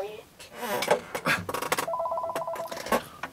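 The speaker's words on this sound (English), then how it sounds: "my phone is ringing" A phone rings with a repeating electronic tone amid clattering, clinking household noise and a talking voice, the ring coming in short bursts near the end.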